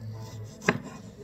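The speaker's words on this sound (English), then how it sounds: "And I'm going to slice these up." A single crisp chop of a knife through garden-grown cherry and Roma tomatoes, one sharp close cut standing out against a quiet kitchen background.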